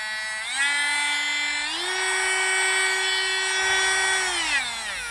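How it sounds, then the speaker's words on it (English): A cordless multi-speed Dremel rotary tool whines steadily at close range, its high pitch stepping up to a faster speed, holding, then winding down near the end, with no talk. "I just got this Dremel."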